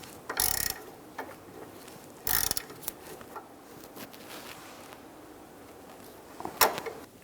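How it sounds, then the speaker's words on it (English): A 21mm wrench and 10mm socket snugging down the nut on a rear upper control arm of a 2007-2017 Ford Expedition, a few short bursts of ratcheting clicks and metallic scrapes separated by quiet pauses. "Using a 21mm wrench and a 10mm socket, we're going to hold the stud as we snug down the nut"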